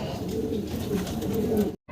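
Bukhara pigeons of Andalusian colour cooing close by, soft repeated low throaty coos over a brief stretch, ending abruptly.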